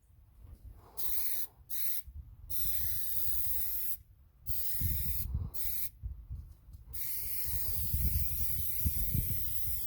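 Plasti Dip aerosol sprayed onto a Ford Explorer in several bursts of hissing spray, separated by short pauses, close and steady.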